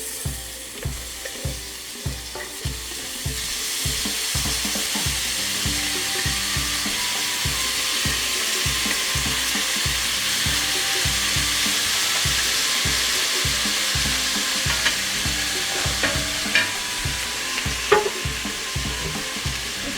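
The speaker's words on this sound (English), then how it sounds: "I need a spoon or something to scrape this into this pan so I can get my hamburger hot." Hamburger meat sizzles and fries steadily in a pan, with rhythmic scraping and stirring strokes repeating throughout, close and fairly loud with no talk.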